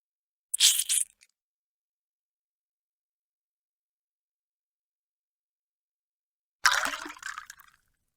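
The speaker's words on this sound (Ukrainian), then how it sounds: "Наливаємо невелику кількість води у промивалку." Water is poured into a gas washing bottle in two short bursts about six seconds apart, a close splashing gurgle each time with silence in between.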